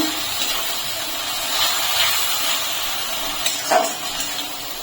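Ginger, garlic and red chili paste fries in a hot pan in a steady hiss and sizzle while it is stirred, with a few soft scraping knocks near the end and no talking.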